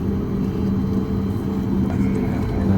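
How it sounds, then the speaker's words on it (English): Boeing 737 MAX 8 jet engines spool up before taxi, a steady low rumbling drone with a faint rising whine heard from inside the cabin. "engines are picking up RPM. You can hear that sound."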